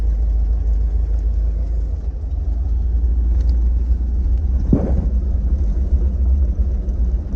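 A 1956 Mercury Montclair at operating temperature, driving with a steady low engine rumble throughout and a brief louder surge partway through, close and continuous with no talk.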